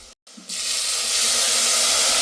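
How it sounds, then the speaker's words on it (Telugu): Water pours steadily into a cooking pot for rice, a broad rushing splash that starts after a brief silence and keeps up loud and close to the end, with no talk. "ఎసరు పోసేసుకుందాం."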